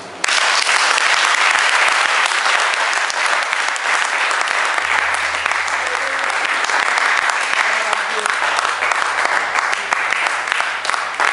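A church congregation applauding and acclaiming Jesus, sustained loud clapping and cheering from a large crowd that carries on steadily for over ten seconds.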